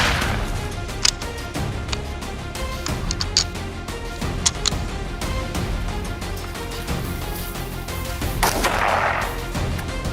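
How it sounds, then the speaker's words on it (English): Rifle shots ring out during a night wild boar hunt, with repeated sharp cracks over about ten seconds against a dense, noisy background. "No time to think, I raised my rifle and fired."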